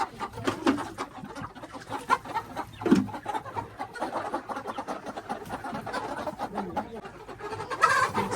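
Large backyard chickens cluck and call in scattered bursts, fairly faint against a busy outdoor background, with the odd brief voice.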